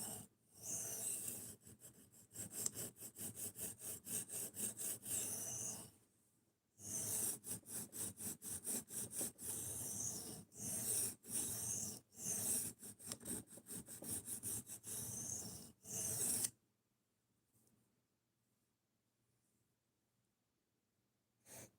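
A knife is drawn in fast, rhythmic reprofiling strokes across a sharpening stone, a harsh gritty rasp repeating in quick bursts for about sixteen seconds, with brief pauses, before it stops to near silence.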